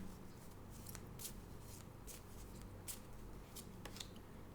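A deck of Shiva oracle cards is shuffled and a single card drawn, producing a steady soft riffling rustle with a few sharper card snaps, close and moderately quiet with no talking.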